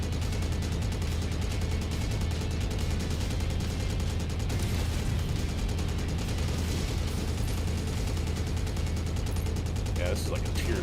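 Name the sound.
mech machine guns firing in MechWarrior 5 video game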